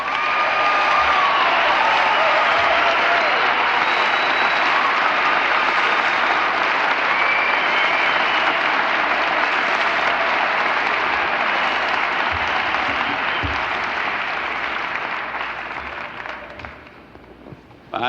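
A conference audience welcomes a motivational speaker with sustained, loud applause from a large crowd, a dense wash of clapping that holds steady for about fifteen seconds before thinning out and fading.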